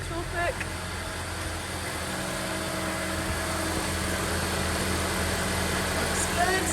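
A cold Honda Civic FK7 engine idles steadily after a transmission fluid flush, with a low, even hum, close by and continuous, with a voice talking over it.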